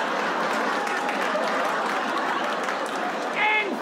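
Audience applause at a comedy roast: dense, steady clapping fills the whole stretch at an even level, with a short voice rising briefly near the end.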